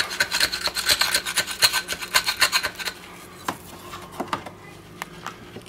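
A tool rasps back and forth across a metal sample coated with Trunano Metal Armour after caustic soda testing, giving about three seconds of quick, close scraping strokes before a few scattered taps.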